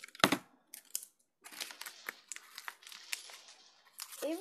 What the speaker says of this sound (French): Vous prenez un bout de scotch.